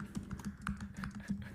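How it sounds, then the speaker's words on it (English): Rapid clacking keystrokes on a mechanical keyboard, a steady stream of sharp clicks close to the microphone, irregular in rhythm and fairly loud. "Dylan, you're typing so loud, brother."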